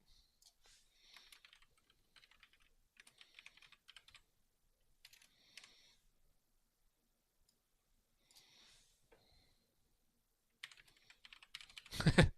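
Light, scattered clicks of typing on a computer keyboard come in short bursts separated by quiet pauses, close and fairly faint, with a louder thump at the very end.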